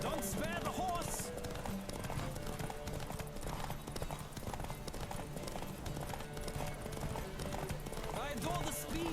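A horse galloping in The Witcher 3, with rapid, steady hoofbeats that are close and continuous throughout while voices talk over them.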